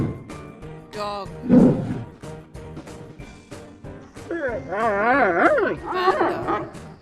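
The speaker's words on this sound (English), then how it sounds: "Dog." A dog yelps and then gives long, wavering howls and whines, loud and close, in several drawn-out calls.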